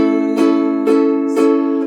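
Three single down strums on a ukulele, evenly spaced, each a bright chord ringing close and clear with no talking.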